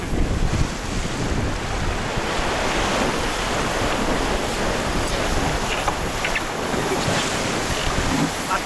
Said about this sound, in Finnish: Kartea aalto.